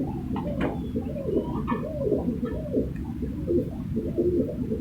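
Several Guldar pigeons coo continuously in a breeder setup, soft overlapping low throaty calls rolling in steady waves throughout, close and moderately loud with no talking.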